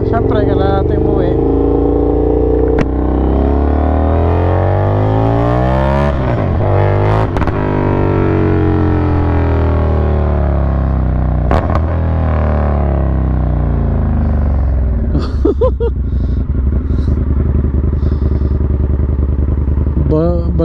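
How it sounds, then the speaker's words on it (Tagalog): A loud motorcycle rides along at night, its engine drone steady and close with shifting pitch as it speeds up and slows, while a rider talks over it and brief clatters break through. "kinakabahan ako kasi maingay nga talaga yung motor"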